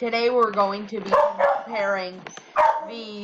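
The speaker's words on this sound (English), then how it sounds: "I apologize for my dog barking" A pet dog barks in short, sharp bursts mixed in with someone talking close to the microphone.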